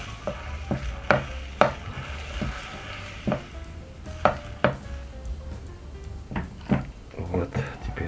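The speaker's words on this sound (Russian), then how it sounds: "Вот, теперь аккуратно перемешиваем." Lazjan seasoning with pepper stirred in a pan, a spoon repeatedly clinking and scraping against the metal in irregular taps over a soft continuous sizzle.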